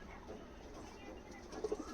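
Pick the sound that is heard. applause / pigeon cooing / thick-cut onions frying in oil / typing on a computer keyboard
pigeon cooing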